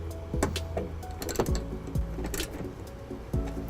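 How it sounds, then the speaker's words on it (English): Ratcheting 10mm socket tightens a ground wire bolt to the body of a 2013 Nissan Rogue, rapid clicking bursts close by with short pauses in between. "we'll tighten it up with our 10mm socket"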